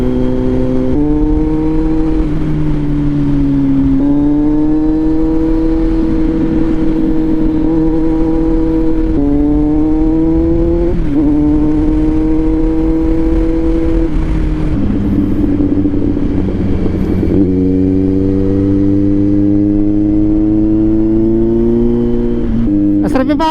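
A motorcycle like a Royal Enfield rides steadily on the road near Vermosa, its engine droning loud and close with repeated gear shifts and rising pitch throughout, wind rushing, no talk over it.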